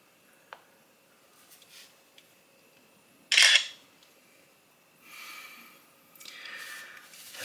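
Camera shutter of a BlackBerry Key2 smartphone taking a selfie: one short, crisp snap at mid-clip, followed by softer rustles, with no talking.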